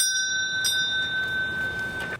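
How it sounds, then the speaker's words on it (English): A ship's bell tolls at a submarine memorial, struck twice with clear ringing strikes that hang over a steady background hum, with no voices present. "The tolling of the ship's bell"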